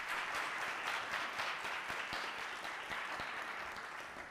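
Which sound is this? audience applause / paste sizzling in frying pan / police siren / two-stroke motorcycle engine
audience applause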